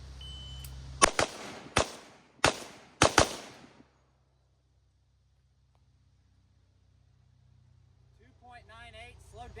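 Five sharp AR-15 rifle shots crack out during live-fire training, an uneven quick series close to the microphone, then silence with faint voices rising near the end.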